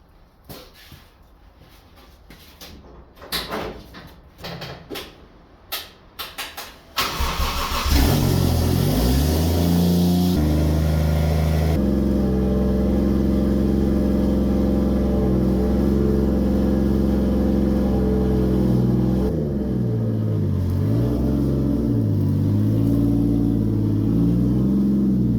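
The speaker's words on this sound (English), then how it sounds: "The car's free. The question is, will it start?" A car that has sat unused in a small cluttered garage cranks and starts after a few brief bumps and knocks, then settles into a loud, steady engine run with several revs rising and falling, close by and alone.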